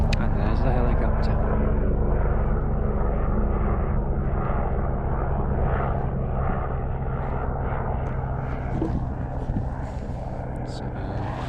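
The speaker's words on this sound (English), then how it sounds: "and there's the helicopter." A helicopter's deep, rumbling rotor drone fills a Yorkshire Dales campsite, loud and steady, slowly easing off as it passes overhead; a voice speaks briefly over it.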